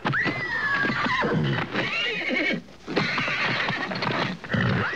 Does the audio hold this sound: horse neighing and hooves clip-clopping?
yes